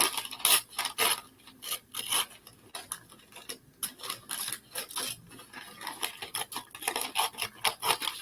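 Paper or foil is torn into pieces by hand for decorating a ceramic pot, giving a long run of close, scratchy ripping bursts in an uneven rhythm with no voices.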